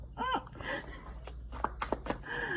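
Tarot cards are shuffled by hand with long nails, giving a run of quick, crisp riffling snaps and slaps up close, mixed with faint voice-like sounds.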